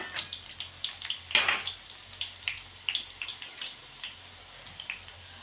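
Green chilli and garlic sauté in oil in a pan for a Marathi dry val bean dish, a soft sizzle broken by irregular crackling pops and spatters, faint and close with no talking.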